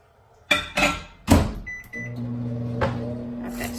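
A microwave oven is operated: a few door and button clunks, then a steady low hum as it runs, heating garlic cloves in a small bowl, alone without talk.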